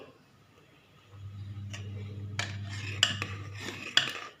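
Kheer (rice pudding) being stirred in a metal pot: a low simmering rumble, then several sharp clinks and scrapes of a spoon against the pot, close and fairly quiet.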